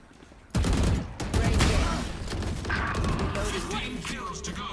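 Dense, loud gunfire erupts in a Valorant match, a sudden sustained barrage of rapid shots close up, with game sounds continuing underneath.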